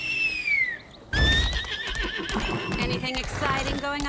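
A horse whinnies loudly in the video game Lost Ark, its high-pitched call rising and wavering, with background game sounds, music and hoofbeats continuing around it.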